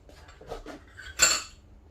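A plate is picked up among cutlery after cooking red lentil and rice soup, giving a bright clink after a few quieter knocks, close and brief.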